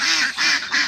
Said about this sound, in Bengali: এখানে আপনার কতগুলো হাঁস আছে? হাঁস আছে 150-150টা।